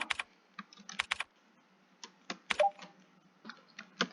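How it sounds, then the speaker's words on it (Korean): Keys tapping on a computer keyboard during typing practice, irregular bursts of crisp clicks separated by short pauses, close and fairly quiet with no talking. "타자를 잘 맞춰서 해야 돼요."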